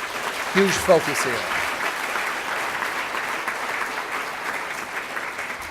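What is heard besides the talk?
audience applause for the mayor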